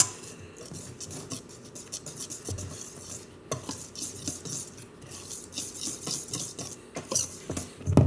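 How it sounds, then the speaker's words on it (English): A whisk scrapes and clinks quickly around a mixing bowl holding yeast and salt, a steady close-up rasping stir with occasional metallic taps against the bowl. "I'm actually gonna grab my whisk and give this a quick whisk around really fast"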